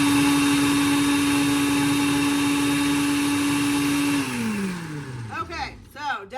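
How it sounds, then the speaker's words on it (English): A big countertop blender runs steadily on omelet ingredients, a loud constant motor whine that winds down after about four seconds, and a voice starts talking as it slows. "maybe even an immersion blender would do this better than a big blender"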